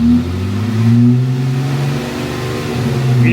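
A car engine revving through a modified exhaust, a deep, loud, close rumbling drone that swells and holds steadily throughout, with no talk.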